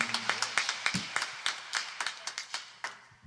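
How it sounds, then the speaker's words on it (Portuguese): A church congregation applauding, brisk overlapping hand claps coming steadily from a crowd in a reverberant room, moderately loud with a low hum beneath. "uma salva de palmas bem forte ao Senhor"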